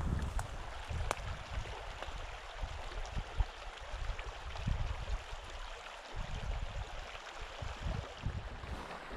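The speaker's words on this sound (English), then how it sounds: "This is a beautiful meadow and a beautiful meadow stream here." Water in a shallow meadow stream runs and gurgles steadily at close range, a soft wash with small bubbling pulses and low burbles rising and falling across the whole stretch, with no one talking.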